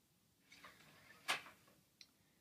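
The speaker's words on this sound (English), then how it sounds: "So you just heard the door lock there" A 3D printed ESP8266 smart lock locking a dorm room door: a faint mechanical whir, then one sharp, close click and a small trailing tick in an otherwise quiet room.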